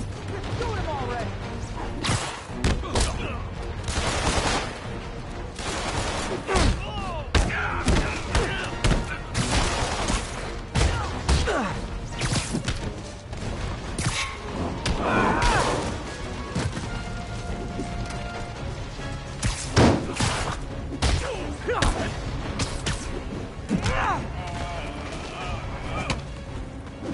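Rapid fusillades of gunfire from a PS4 action video game, with bursts and mechanical clatter running densely through the whole stretch over a continuous game soundtrack.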